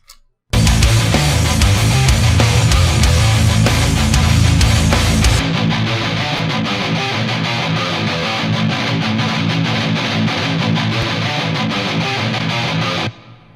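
A metal guitar played through a VST amp simulation plugin and cabinet impulse response, sounding thin, muddy and heavily distorted, with loud, dense riffing that drops to a thinner tone partway through before stopping abruptly.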